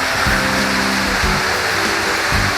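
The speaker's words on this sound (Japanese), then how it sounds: "こちら石滝、本日5滝目ですかね" Ishi waterfall on the Arima 48 Waterfalls hiking trail in Japan in winter, a loud continuous rush of falling water close by, with a few low repeating thumps beneath and no voices.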